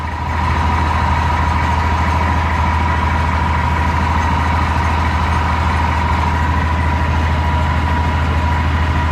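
A 250 generator engine idling at low RPM, a close, steady low drone with an even hum and no voices over it.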